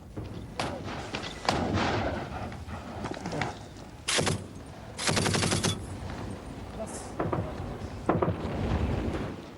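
Gunfire and shelling at a besieged government fort in Afghanistan in 1984: bursts of automatic fire and heavy thumping blasts come in irregular clusters, with distant rumble between them and voices faintly audible under the fighting.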